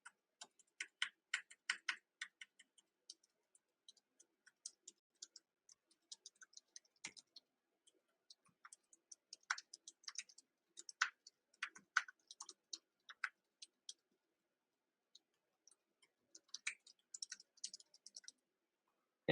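Credit card details tapped out on a computer keyboard in quiet, close, irregular bursts of light key clicks separated by short pauses, nearly silent in between.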